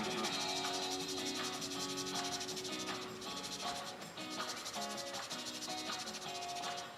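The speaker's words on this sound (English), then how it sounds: "I make these little sandpaper tool things, so this way it becomes a little bit easier to get in here." Small handmade sandpaper tool rubbing steadily over fine details of a figure, a continuous close scratchy abrasion with short rhythmic strokes, heard alone without talk.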